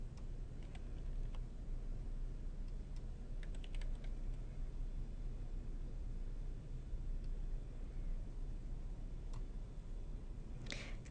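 Steady computer keyboard typing as expenditure figures are entered, with soft irregular key clicks over a low constant hum and a brief denser burst of keystrokes near the end.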